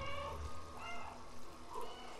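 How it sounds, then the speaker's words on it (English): Several cats meow back and forth in a cat video game, a few short tonal calls layered over a soft watery trickle, moderately close. "Got four cats meowing at each other."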